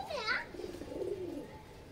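A single soft pigeon coo, low and rolling, close by, with a brief higher chirp at the start.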